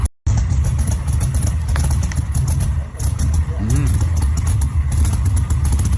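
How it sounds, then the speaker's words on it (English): A classic muscle car engine rumbles loudly and steadily close by, with a deep idle and slight revving swells running throughout, and a voice talks over it. "you got to hear the engine on this bad boy"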